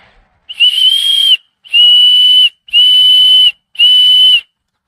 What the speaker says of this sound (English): that's kind of a weak whistle. I'll be honest, that is not that loud.